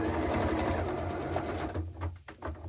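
Sewing machine stitching fabric seams on a panettone holder project, a steady close mechanical whir running continuously before breaking into short uneven bursts near the end.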